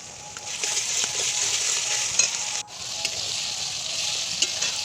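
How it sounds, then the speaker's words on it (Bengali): Garlic paste frying with onions in a pan for chicken kosha, giving a loud, continuous close sizzle with a few faint scrapes and one brief dip partway through, no voices. "রসুন বাটা দিয়ে বেশ ভালো করে একটু ভেজে নিলাম"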